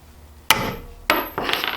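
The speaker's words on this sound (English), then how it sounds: "take the hammer and strike it pretty good" Two sharp metallic hammer strikes on a socket set on a valve spring of a Jeep 4.0 engine, spaced about half a second apart, followed by a lighter third tap with ringing overtones.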